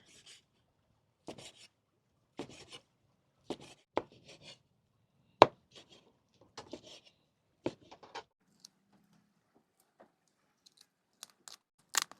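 Lobster meat being cut apart by hand at a seafood meal, a series of sharp isolated crunches and cracks spaced a second or so apart, close and fairly quiet with pauses between.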